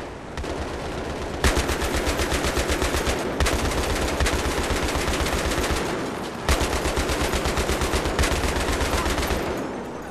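Sustained automatic gunfire in the video game Battlefield 3, a loud, close, steady rapid stream of shots in several long bursts separated by brief pauses.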